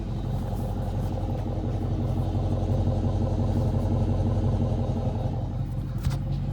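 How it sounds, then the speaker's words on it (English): A 2014 Dodge Challenger R/T 100th Anniversary Edition with aftermarket exhaust rumbles steadily nearby, a deep, even engine drone that swells slightly midway and holds without a break. "the fifth thing that I love that it has is the aftermarket exhaust"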